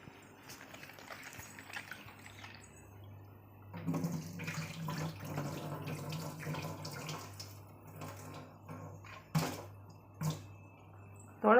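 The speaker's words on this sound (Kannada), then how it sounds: "ಮೊದಲು ತೊಳಿತೀನಿ ಇವನ್ನ ನೀರಾಗ" Sweet corn is washed by hand in water, giving faint, soft sloshing and splashing with a few sharper splashes toward the end, all at low volume.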